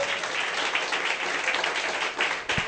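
Church congregation at a Spanish-language service in Lima breaking into sustained applause, a dense, even wash of many hands clapping together for a few seconds, with a faint voice barely showing beneath it.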